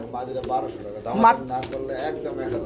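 A female Budapest breed pigeon and other pigeons coo softly and continuously beneath close conversation.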